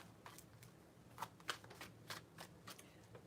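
Tarot cards being shuffled in a quiet room, a string of soft papery riffles and flicks in irregular bursts, close and fairly faint with no talking.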